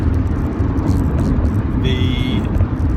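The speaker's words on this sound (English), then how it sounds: "Overtaking a blind lane. That's what we do in a Porsche." A Porsche drives hard and overtakes on a road, its engine and road noise a loud steady roar throughout, with a brief higher whine near the end; no talk over it.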